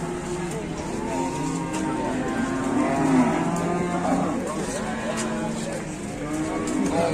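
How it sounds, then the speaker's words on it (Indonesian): Cattle moo repeatedly amid a farm herd, overlapping low calls forming a steady, fairly loud chorus close by, with some background talk mixed in. "Ya, sapi superan."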